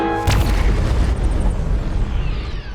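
A Star Trek phaser shot followed by a heavy explosion, loud and booming, the blast rolling into a long, dense rumble that slowly fades.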